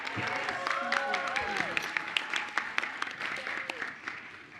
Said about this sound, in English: Can we have another round of applause for those students?